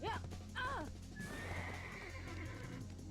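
Horse in the online game Black Desert Online giving two quick high whinnies over a steady ambient game bed, followed by a drawn-out tonal cry and faint hoof-like clatter.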